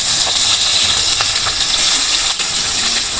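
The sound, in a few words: onion frying in oil in a wok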